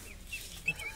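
A chick clucks near well water, giving a few faint, brief calls over a quiet background.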